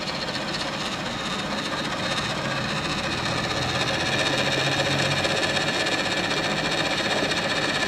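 A Radio Shack Robie robotic banker toy whirs and clatters mechanically as it pulls its little lever, a steady close buzzing rattle lasting the whole stretch.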